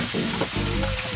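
Chopped cuttlefish sautés in a hot pan with a bright, steady sizzle and crackle, briefly stirred, heard close up with no talk.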